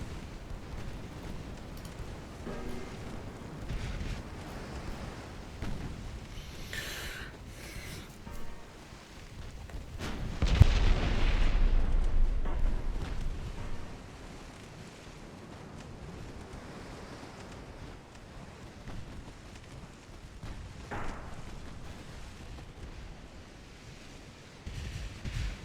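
A battleship, the Argonaut, goes down in a British naval warfare game, with rushing, surf-like water and wind, and one heavy explosive boom swelling midway before settling back into churning sea noise.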